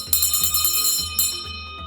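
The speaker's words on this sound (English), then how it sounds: "the nurse would take this bell," A hand bell in an old maternity home, rung to summon a doctor from downstairs: loud repeated clanging strokes in a steady rhythm, ringing on bright and close with no talk over it.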